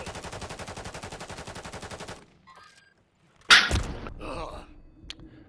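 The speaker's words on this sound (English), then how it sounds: "Being shot from the right-hand side." Rapid automatic gunfire rattles in a fast even burst for about two seconds in Call of Duty, followed by a short pause and then a sharp loud blast with a trailing rumble.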